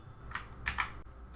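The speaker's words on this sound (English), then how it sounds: "simply press the Ctrl plus A key together on your keyboard" Ctrl and A pressed together on a computer keyboard give a few close, crisp key clicks in quick succession over faint background hum.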